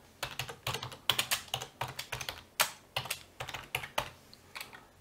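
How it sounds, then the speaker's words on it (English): Quick, irregular keystrokes on a computer keyboard while entering a network SSID for an ESP8266 IoT gateway, a steady run of close, crisp clicks with brief pauses and no talking. "type in the SSID of the network you want to connect with"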